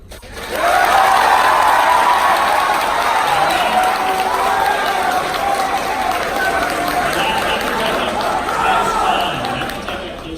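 Applause from the audience at a gubernatorial debate rises quickly and holds steady and loud for several seconds, then fades slightly at the end, mixed with crowd chatter.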